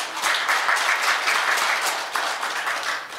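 Audience applause at a Korean community meeting, steady dense clapping from a crowd that holds evenly for the whole stretch with small swells.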